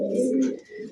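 A pigeon coos close up in a continuous low rumbling burst, a large blue-tagged bird held at hand.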